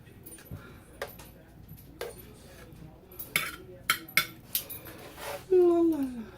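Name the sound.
putting carrots and green beans on a plate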